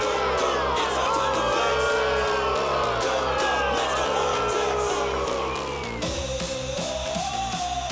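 A hockey arena crowd grumbles and shouts in displeasure, a dense, loud murmur with scattered yells that runs for about eight seconds under a play-by-play voice.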